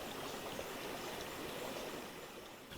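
A small creek at Yackandandah flows in a soft, even, low-level rush, a steady babble heard alone and unchanging throughout.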